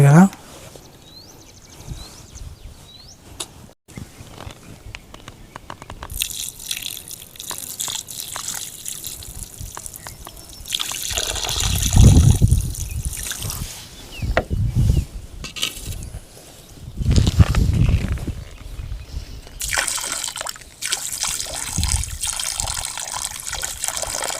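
Water is splashed and poured out for a cobra suffering from heatstroke, with gushing bursts that come and go over a bed of steady background noise while people talk throughout.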